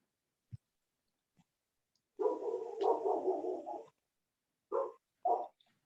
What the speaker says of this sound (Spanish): Hay un perrito por ahí, déjame cerrar.